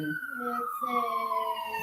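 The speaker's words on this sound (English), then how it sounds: "Oh, it's an ambulance." An ambulance siren wails steadily from a distance as it passes the end of a residential street, a sustained tone sliding slowly lower, with no talking over it.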